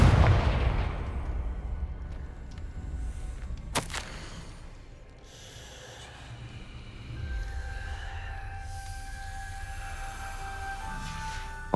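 A Confringo blasting curse goes off in Hogwarts Legacy with a loud, sharp explosive crack near the start. A rumbling boom and low roar follow and then fade into sustained game ambience with tonal hums.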